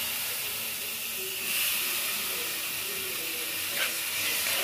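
Chopped tomatoes hiss and sizzle in a hot frying pan for a jackfruit dish, a steady broad sizzle heard close with a slight swell partway through and no talking.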